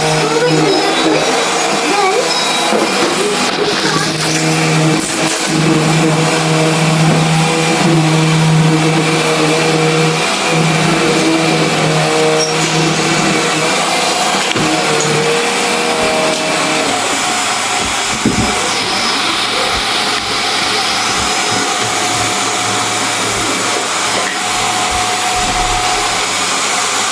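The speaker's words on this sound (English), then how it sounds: "And then you first vacuum." A Hoover vacuum cleaner runs steadily throughout, a loud continuous motor whine with a brief surge partway, while people talk over it.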